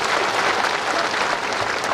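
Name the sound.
crowd applause at a political rally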